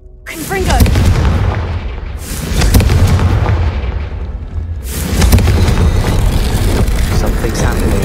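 A Confringo spell explosion in a Harry Potter-style video game, booming loud and close, followed by sustained deep rumbling and a second heavy blast that rolls on under a continuous roar.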